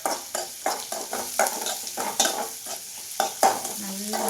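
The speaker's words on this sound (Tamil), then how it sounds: "வெங்காயம் போட்டு அது நல்லா நம்ம வதக்கி விட்டுக்கணும்." Sliced onions and green chilies sizzle in hot oil in a pan as they are sautéed for a savory bread dish. A constant frying hiss runs under repeated scraping stirs in an irregular rhythm.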